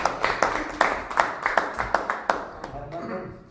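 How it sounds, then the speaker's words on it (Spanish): An audience at a community dialogue panel gives a short burst of rhythmic applause, distinct claps at a steady pace that taper off, with voices talking underneath toward the end. "Un aplauso"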